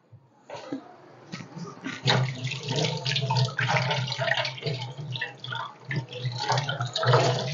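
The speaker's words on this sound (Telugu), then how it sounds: "నేనైతే చేతులు కడుక్కుంటున్నాను." Hands being washed under a running tap: water splashes irregularly and fairly close, with rubbing and dripping breaks between the louder gushes.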